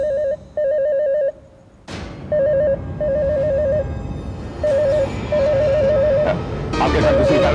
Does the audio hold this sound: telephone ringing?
yes